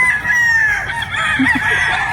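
Gamecocks and hens on a large fighting-rooster farm crow and cluck together, overlapping calls from several birds at once above a steady background of flock noise.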